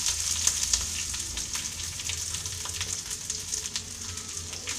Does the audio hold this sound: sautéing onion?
yes